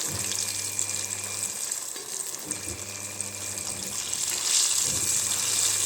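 Green gram sukhiyan fritters fry in hot oil and are turned over. A loud, continuous sizzle runs throughout, with soft scraping and stirring noises as the fritters are flipped.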